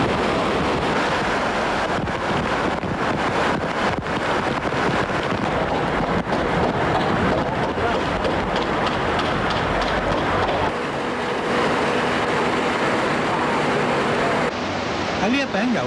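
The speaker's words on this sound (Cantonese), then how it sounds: "金鐘太古廣場旁邊嘅正義道變咗一條激流，雨水沿住山勢喺馬路衝落嚟" Torrential rainwater rushes down a steep sloping road beside Pacific Place in Admiralty, Hong Kong, during a 1992 rainstorm: a loud, dense, unbroken roar of churning water, with a voice speaking over it.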